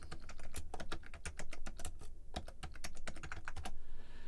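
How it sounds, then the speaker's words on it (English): Clacky typing on a computer keyboard, a fast irregular run of close, crisp key strikes that continues steadily without pause, alone and without speech. "Sorry for all the clacky typing."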